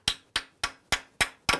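A hammer drives a lead fastener into a drilled hole for an egress window frame installation, six evenly spaced, sharp, loud strikes in a steady rhythm, close up and with no talking.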